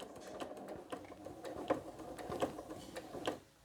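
A sewing machine stitches a quilted Santa cookie rug, its needle ticking in quick, close, uneven runs with slight pauses.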